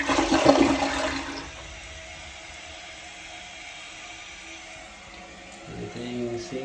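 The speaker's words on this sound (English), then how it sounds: "All right, now that it's filled up, I want to flush it." A newly installed toilet flushes with a loud rushing gush that fades into a long, quieter refill hiss, then a low voice begins speaking near the end.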